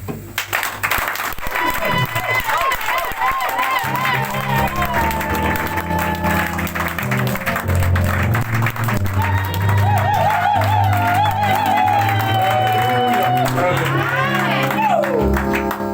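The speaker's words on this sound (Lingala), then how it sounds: "Pourquoi ne pas acclamer notre Seigneur?" A church congregation applauds and cheers loudly to acclaim the Lord, steady clapping mixed with shouts and whoops, with voices and music running underneath throughout.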